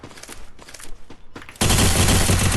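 Gunfire from a mobile shooter video game: scattered quick shots, then a sudden loud, sustained burst of rapid fire that continues to the end.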